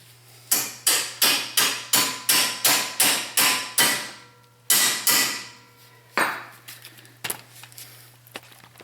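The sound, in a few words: hammering punch and bolt through Volvo XC90 rear wheel hub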